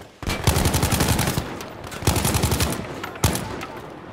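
SMG fire in Battlefield 5 rips out in three rapid bursts, each a fast, dense string of loud, close shots, with brief gaps between bursts.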